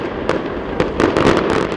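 Fireworks and firecrackers go off, several loud, sharp bangs and cracks ringing over a dense, continuous crackling rumble within about two seconds.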